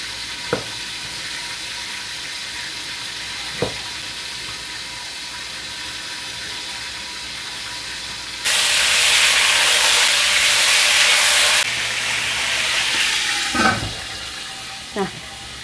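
Fish frying in hot oil in a home kitchen, with no flour coating. A steady low sizzle runs throughout and swells into a loud hissing burst for a few seconds. Scattered clinks sound over it, and someone speaks only now and then.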